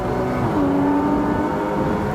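A race car engine drones steadily as it powers out of a corner at Barber Motorsports Park, heard from inside the car with a sustained, slowly rising tone and no voices.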